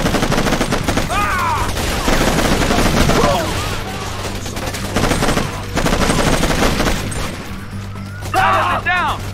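Bursts of machine-gun fire rattle in Raven Squad, close and loud, in uneven volleys across the whole stretch, with voices speaking over the shooting.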